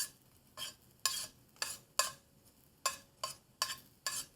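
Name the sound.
catfish pieces frying and moved around in a hot skillet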